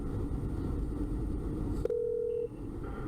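A phone call being placed to 911 from inside a moving car: low road rumble underneath, then a single steady electronic tone sounds for about half a second before the line goes quiet, with no talking.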